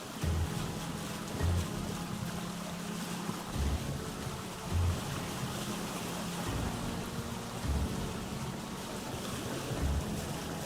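A sailboat glides across open water at night in the survival game Vintage Story, with steady wind and lapping waves over regular low, rhythmic thumps of the hull riding the swell.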